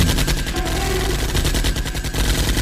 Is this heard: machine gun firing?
yes